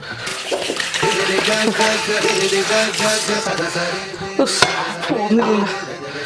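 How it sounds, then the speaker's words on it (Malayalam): Water runs steadily into a kitchen sink that is clogged and not draining, a close, continuous splashing flow with a few knocks of dishes, while voices talk over it. "സിംഗിന്ന് വെള്ളം പോകുന്നില്ല"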